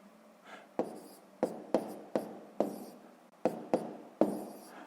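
A multiplication written out by hand in a column, about nine distinct pen-on-paper strokes and taps spaced roughly half a second apart, close and fairly quiet, with no voice.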